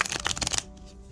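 Rapid riffling and snapping of a Minchiate tarot deck being shuffled, close and crisp, stopping abruptly partway, followed by quiet room tone.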